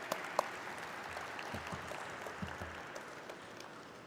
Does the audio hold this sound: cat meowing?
no